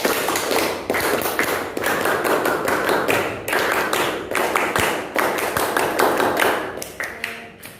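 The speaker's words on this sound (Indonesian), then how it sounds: "coba kalian tepuk tangan dulu biar tidak ngantuk. Tepuk pramuka." A classroom of students performs the Indonesian scout clap, a rhythmic patterned clapping in quick bursts and pauses, loud and sustained with a few faint voices underneath.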